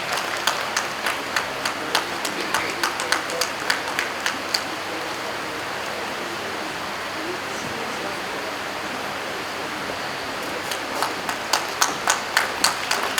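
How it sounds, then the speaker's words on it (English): Audience applause at an NAAC celebration ceremony: distinct claps ring out at the start, give way to a hissy crowd wash in the middle, then pick up again with sharp, regular claps toward the end. "applause should continue"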